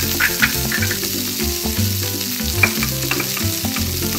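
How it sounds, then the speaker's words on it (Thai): Onion is stir-fried during toy kitchen role-play, with a continuous bright sizzle and stirring scrapes laid over steady background music. "เริ่มแรกแม่ก็จะผัดหอมหัวใหญ่นะจ๊ะ"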